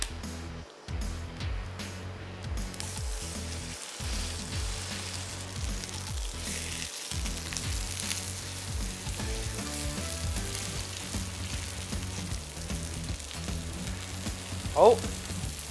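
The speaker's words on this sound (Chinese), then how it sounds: "咁我哋咧就切埋塊 rib cap 咧，跟住就煎嚟試一試" A Wagyu rib cap steak fries in a pan with a loud, continuous sizzle and spatter that holds steady throughout, with a sharp clatter near the end.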